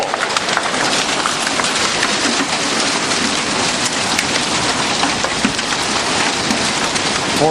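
A June hail storm on a farm, nickel-sized hailstones hammering down and striking surfaces, including a Ford's bodywork: a dense, continuous clatter of countless sharp impacts, loud and steady, with no voices.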